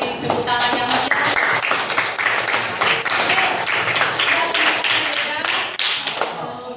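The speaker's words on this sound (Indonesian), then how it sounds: "Boleh tepuk tangan yang meriah." Students in a classroom clap in lively applause, a dense burst of many hands with a loose beat that runs steadily for several seconds, close and fairly loud.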